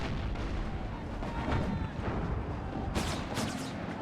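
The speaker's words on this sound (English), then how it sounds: "We're taking way too many artillery hits." Artillery fire in the strategy game Empire: Total War rumbles as repeated heavy booms over a dense battle din, with a sharper pair of blasts toward the end.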